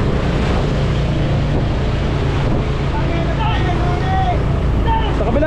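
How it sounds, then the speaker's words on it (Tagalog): Big ocean waves wash and churn around a boat, a loud, continuous rushing roar with wind buffeting the microphone, and faint voices and shouts scattered underneath. "Ayan na, malalaking alon."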